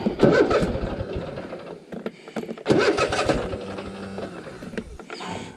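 A lawn mower engine is pulled over twice without catching, each attempt a loud, close burst of rough cranking and sputtering that dies away, with a short pause between tries.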